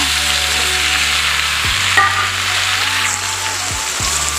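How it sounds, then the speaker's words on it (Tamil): Tomatoes sautéing with onions for a fish curry, a loud, close, continuous sizzle with a spatula scrape or two against the pan, steady throughout with no talking. "இப்போ நம்ம தக்காளி சேர்த்து வதக்கலாங்க"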